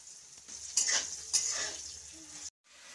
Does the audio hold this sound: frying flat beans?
yes